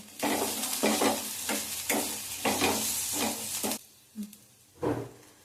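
Onions frying in a pan with poppy seeds stirred in, a steady sizzle broken by rhythmic scraping stirs that stop near the end, leaving a couple of separate clinks.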